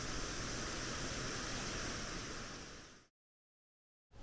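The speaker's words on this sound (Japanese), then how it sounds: "の対岸に水しぶきが上がる場所があります。 宇治発電所の放水口です。" Water gushes loudly and steadily from the discharge outlet of the Uji hydroelectric power station on the Uji River, a dense close roar that cuts out abruptly near the end and then returns.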